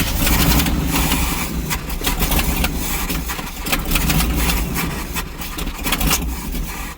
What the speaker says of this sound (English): Ooh, a little backfire.